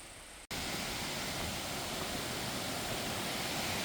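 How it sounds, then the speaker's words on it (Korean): Mountain stream in Seoraksan running strong after rain, a dense, loud rush of flowing water that starts abruptly after a brief quieter moment and continues steadily. "어제까지 내리 비로 계곡에 나는 물이 시원하게 흐르고 있네요."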